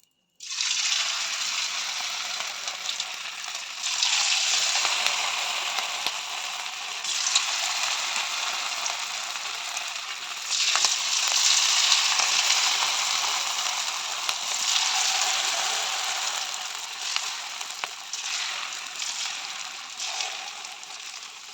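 Cauliflower (gobi) fries in hot oil, a loud, continuous crackling sizzle that swells and eases without pause throughout.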